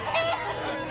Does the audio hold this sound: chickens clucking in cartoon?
yes